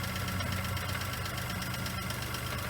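Geo Metro engine running at idle with a rough, knocking character, a close, steady droning rumble with a fast rhythmic pulse and no talk over it.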